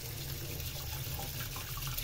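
Tap water runs steadily into a pot of rice being rinsed in a sink, a continuous close splashing hiss with no voices over it.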